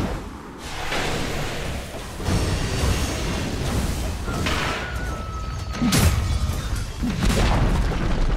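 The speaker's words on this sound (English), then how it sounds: "Dire's top tower has fallen." A tower crumbling and being destroyed in Dota 2, with heavy booms and crashing rumbles amid ongoing game battle noise, repeated over several seconds.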